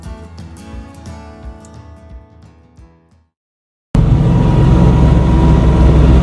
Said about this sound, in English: As you can tell, the engine is running.